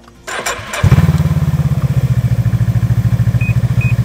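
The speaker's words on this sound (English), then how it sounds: "I'm going to start the machine" A snowmobile engine cranks briefly after a few clicks, then catches and settles into a fast, even idle putter, close and loud, with two short beeps near the end.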